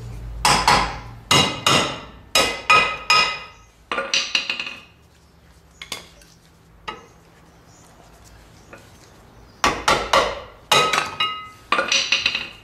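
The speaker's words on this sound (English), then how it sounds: "Not the first time I've had to chisel off a brake pad." Hammer blows on a chisel to knock a seized rear disc brake pad off a car, sharp metallic strikes in quick bursts of three or four, with a few single taps and pauses between.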